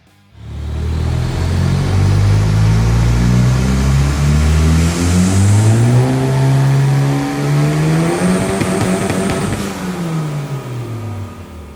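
Turbocharged Maruti Esteem tuned to about 160 bhp with a race clutch, engine revving hard and climbing through the rev range for several seconds, loud and close, with a brief dip and rise near the end.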